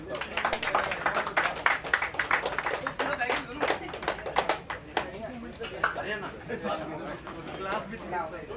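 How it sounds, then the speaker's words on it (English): Audience clapping at an awards night, a dense patter of hands running steadily under a voice speaking over it, moderately distant. "Guys, a big round of applause"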